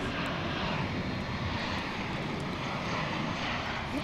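A jet airliner in Reno Air special livery roars continuously at DFW International Airport, a loud, broad, steady engine rush with no talking.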